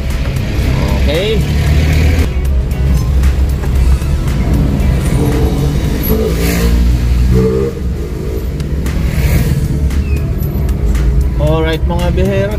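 Busy morning street traffic on Pedro Gil street in Manila, with cars and jeepneys rumbling and passing close by in a steady mix of engine noise, joined by a brief horn or brake squeal near the end.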